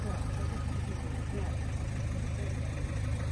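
A yellow 2010 Opel Vivaro long-wheelbase nine-seat van idles with a steady, even low engine hum and faint background noise throughout.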